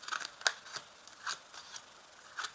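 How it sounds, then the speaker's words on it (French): Oracle cards are drawn from a deck one by one, giving a few short, crisp snaps and slides separated by pauses, close and quiet. "Je vais d'abord tirer 5 cartes."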